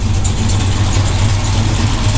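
A modified 1500hp Dodge Challenger SRT Hellcat engine runs on its first start, sounding rough because it has not been tuned yet. The idle is loud, close and steady, with a deep rumble and a constant lumpy throb.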